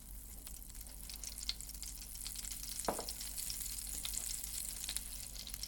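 Butter and olive oil sizzle steadily in a frying pan for a creamy mushroom spaghetti, a soft constant crackle with scattered pops and one brief scrape of stirring partway through, no talking.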